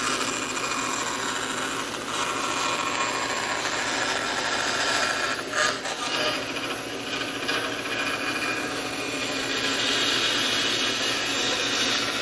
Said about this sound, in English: now we can cut it off here at the bandsaw